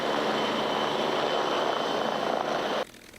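Steady, loud drone of a World War II-era propeller plane engine at a small regional airport, continuous and close before cutting off suddenly near the end.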